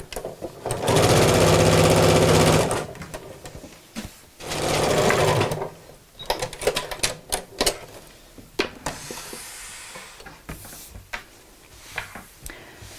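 A sewing machine stitches a fabric mat in two steady whirring runs of a few seconds each, followed by scattered clicks and taps from handling the work, close and loud, with no talk.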